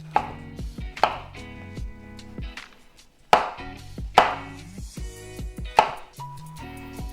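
A knife chops fresh porcini mushroom stems into cubes on a cutting board, about eight loud, close, irregular thuds with quieter scraping between them and no talking.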